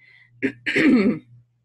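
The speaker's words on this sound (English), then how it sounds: "Clear my throat." A single person clears their throat with a short rasp, then a longer gravelly burst, with no talking around it.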